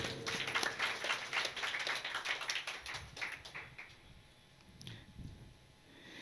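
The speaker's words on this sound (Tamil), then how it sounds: "கைத்தட்டு பாப்பா." A group of people at a Christmas holy mass clap their hands for a few seconds, crisp and close, before the applause trails off into quiet room tone.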